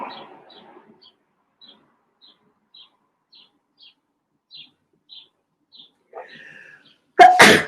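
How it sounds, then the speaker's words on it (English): A person in a yoga studio gives a loud, abrupt sneeze near the end. Faint bird chirps repeat at regular intervals before it, and a soft breath is heard just ahead of the sneeze. "Little sneeze makes a person laugh."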